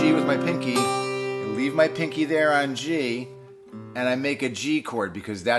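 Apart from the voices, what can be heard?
No distinct noise like a dog, phone or traffic.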